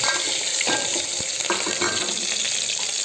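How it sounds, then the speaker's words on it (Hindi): Steady, crackling sizzle of cumin seeds frying in hot oil for tempering, continuous and close, with a few faint stirring clinks. "अब मैं डालूँगी जीरा, जीरा अच्छा तड़के वाला।"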